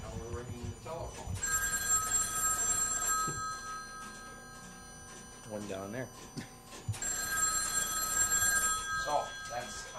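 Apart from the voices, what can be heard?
telephone bell ringing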